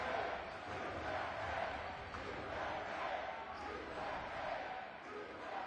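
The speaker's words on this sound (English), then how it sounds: "listen to the crowd" A large arena crowd at an Olympic gold medal men's basketball game, USA against France, roars in a steady, sustained wash of noise with no clear breaks.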